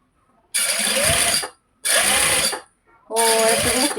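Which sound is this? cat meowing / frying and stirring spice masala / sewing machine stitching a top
sewing machine stitching a top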